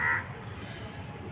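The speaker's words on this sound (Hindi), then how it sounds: "सुबह सुबह कौवा भी बोल रहे हैं" A single crow caws briefly at the start on a Delhi rooftop in the morning, fairly clear, then fades into a quiet low outdoor hum.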